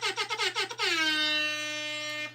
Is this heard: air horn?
yes